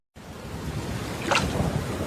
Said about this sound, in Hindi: तेज हवा चलने लगी और जोर से आसमान गरजने लगा